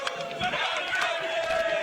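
A jubilant crowd at an airport welcome cheers in a dense, continuous roar of many voices, loud and close throughout.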